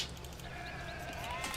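A sheep bleating in a video game, one short wavering bleat, faint under background game sound.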